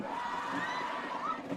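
Large crowd in the stands at a night high school football game at Marciano Stadium, a steady broad murmur with scattered cheers and whoops, continuous and moderately loud throughout.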